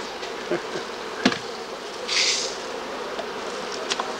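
Honeybees buzz steadily from an opened hive as a colony is taken apart with steel-bottomed frames, a dense insect drone with a few brief knocks and a louder swell of close buzzing partway through.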